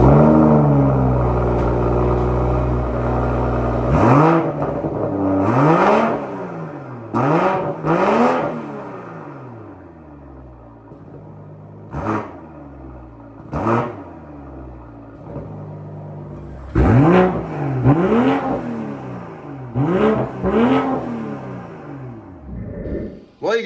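A BMW M340i engine with tailpipe tips starts and revs repeatedly, loud sharp throttle blips rising and falling in bursts over a steady idle rumble, close by.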